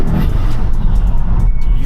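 An Audi TT engine fitted with a new intake revs loudly nearby outdoors at night, giving a rough, throaty roar that surges and holds for a couple of seconds.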